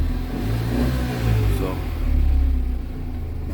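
A 2012 Tata Nano CX petrol car's engine runs up close with a steady low rumble that swells slightly as it revs, and a voice briefly speaks over it.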